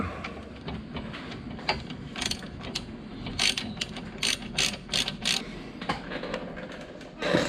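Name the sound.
ratchet tightening nuts on shock studs, '05 Ford Ranger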